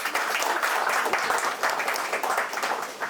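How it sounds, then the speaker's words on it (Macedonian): An audience at a satire reading gives sustained applause. The dense, crackling clapping is close and fairly loud and carries on evenly, without speech. "И пред да почнам да читам, сакам еден голем аплауз"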